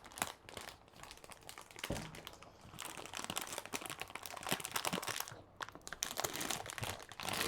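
Packaging around a brand-new graphics card is opened, with quiet, close crinkling and crunching of plastic and cardboard, irregular rustles and tears continuing throughout.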